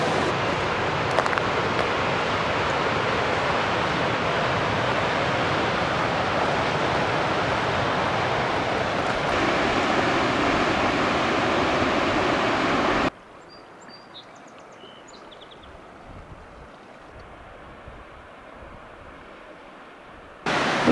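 A river runs over shallow rapids in an Idaho wilderness canyon, a broad steady rushing roar that cuts off abruptly and drops to a much quieter, distant water hiss.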